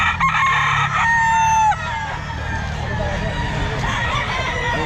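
A rooster crows loudly and close by at a busy pet market, its drawn-out call rising over the babble of a crowd, with other fowl clucking nearby.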